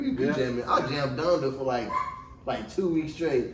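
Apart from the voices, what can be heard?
dog barking in the background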